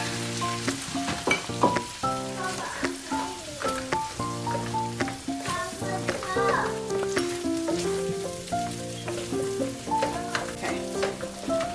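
Food sizzles steadily in hot oil in a pan, a continuous crackling hiss that runs beneath clearly audible background music.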